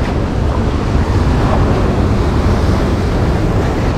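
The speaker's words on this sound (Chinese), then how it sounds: "看一下这个海浪情况" Ocean waves break along a rocky coast at low tide, where rocks are exposed on a rough sea. A loud, continuous surf roar is mixed with buffeting wind noise on the microphone.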